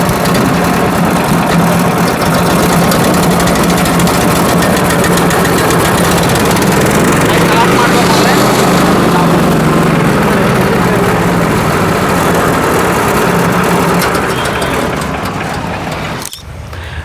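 A farm machine engine running at an agricultural machinery fair, a loud, steady, rumbling drone with a vibrating knock that holds for the whole stretch before cutting off abruptly near the end.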